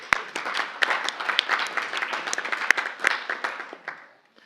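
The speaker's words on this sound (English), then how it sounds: "Give them a little clap." An audience at a city council meeting applauds two visiting councillors with light, scattered clapping that fades out after a few seconds.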